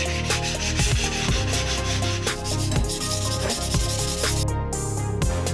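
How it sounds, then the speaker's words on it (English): Rapid, rhythmic scraping of sandpaper sanding dried filler flush on a car wheel rim, loud and close, continuous with no talking. "After it dried out, sand it so it's flush."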